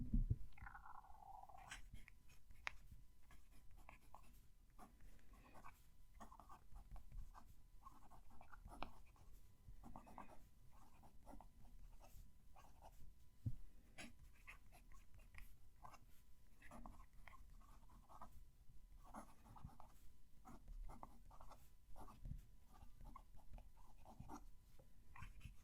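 Lamy fountain pen with a wide nib scratching across paper, heard very close: continuous soft scraping strokes with brief pauses between letters, quiet and steady throughout, with no voices.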